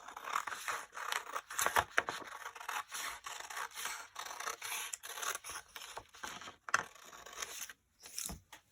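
Scissors trim the margin of a printed paper PDF pattern for a Christmas stocking, giving close, crisp snips and rustling paper scrapes in uneven bursts with brief pauses between cuts.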